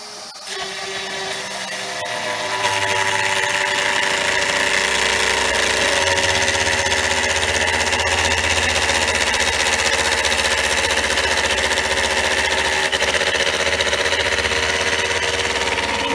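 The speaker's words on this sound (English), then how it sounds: "We're cutting quarter-inch deep passes." After a short quiet start, a new router on a 4x8 CNC machine spins up into a loud, steady whine as it cuts quarter-inch deep passes, holding a constant pitch throughout.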